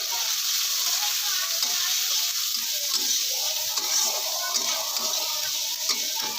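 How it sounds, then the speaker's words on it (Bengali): Chopped onion and green chili fry in hot oil with a loud, continuous hissing sizzle close up, with occasional faint stirring and bubbling underneath. "এবার দিয়ে দিচ্ছি পেঁয়াজ কুচি আর লঙ্কা কুচিটা দিয়ে দিলাম।"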